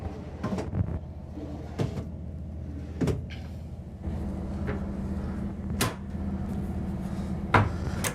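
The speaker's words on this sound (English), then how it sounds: "there's 3 more full pull-out drawers right here" Full pull-out drawers in a 2025 Newmar London Aire 4595 luxury motorhome slide open and shut repeatedly, a series of sharp thuds and rolling slides spaced a second or two apart against a low background hum.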